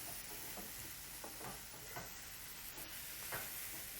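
A spoon stirring cumin and other dry spice powders in a sizzling pan, a steady low hiss of frying with soft scraping strokes at irregular intervals, quiet and unaccompanied by voices.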